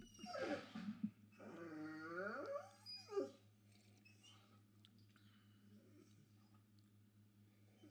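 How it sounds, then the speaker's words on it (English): A dog howls and whimpers indoors in rising and falling wails for a few seconds, fairly close, then fades to quiet room hum. "My dog is talking because I'm talking."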